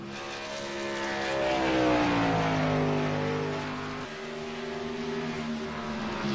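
Stock cars racing on track, their engines roaring loudly in a sustained, rising and falling drone as the pack passes close by, with no talk over it.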